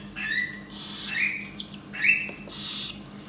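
Hungry baby cockatiel chicks squawk and chirp while being hand-fed, several close, shrill, rising calls in quick bursts with short gaps between them, over a faint low hum.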